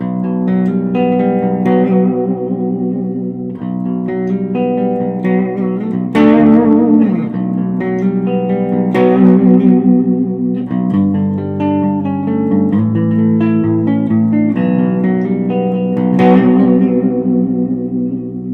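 ESP Ltd H-400 electric guitar with Seymour Duncan JB and '59 pickups, both engaged on the middle selector, playing sustained chords and melodic lines with effects and reverb, steady and loud throughout with no talking.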